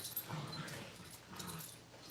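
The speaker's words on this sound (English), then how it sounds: "The dogs are wrestling." Dogs wrestling indoors, giving faint whimpers, yips and soft growls, with low scuffling in the background.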